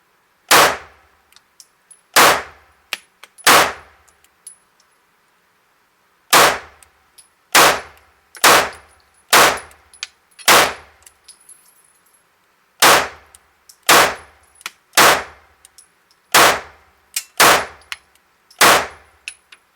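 Sharp, loud gunshots from a Smith and Wesson Spec V handgun at an outdoor shooting range, about fifteen reports in irregular bursts with brief pauses between groups, no voices.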